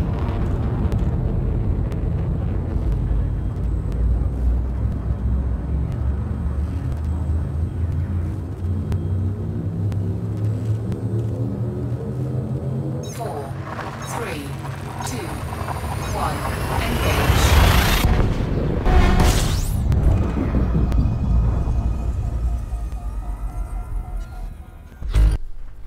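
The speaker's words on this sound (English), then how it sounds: "Frameshift drive charging." An Elite Dangerous frameshift drive charges with a deep rumble and steadily rising whine, then surges into a loud roaring burst as the ship jumps, with a low engine drone throughout.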